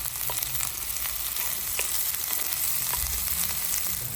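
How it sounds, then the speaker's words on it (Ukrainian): Pork fat and chopped onion sizzle in a pan outdoors while cabbage soup is being cooked. The frying is a steady, close crackle with small pops throughout, and no one speaks. "Смажимо сало. Зараз закидаємо цибульку."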